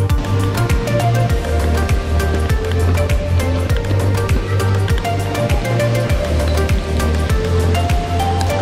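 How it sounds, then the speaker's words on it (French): Splashing water at a Thai water park, a steady loud wash of spray and pouring water with a regular rhythmic pulse beneath, continuous throughout. "c'est le meilleur parc aquatique de la Thaïlande"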